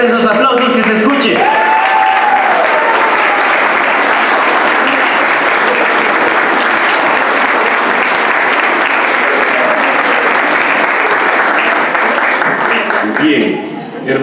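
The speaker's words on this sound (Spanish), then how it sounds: "a ver esos aplausos, que se escuche" Sustained, loud applause from a concert audience after a choir performance, a dense wash of many hands clapping for most of the stretch before tapering off near the end, with some voices mixed in.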